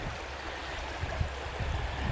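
River water flowing steadily through a deeper run on a stream in County Down during early-season fly fishing, a continuous close rushing wash with low gurgles and no talking.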